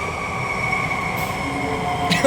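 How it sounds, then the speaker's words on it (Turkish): Steady rumble of an Istanbul metro train riding along the tracks, with a sustained mechanical hum and a brief squeal near the end. "Metrodayız."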